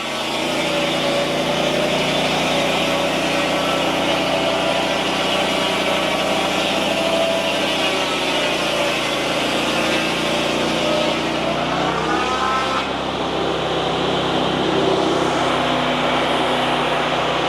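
Power saw ripping through spruce bevel siding, a loud, sustained whining cut that holds steady, then dips in pitch and shifts near the end as the blade finishes the pass.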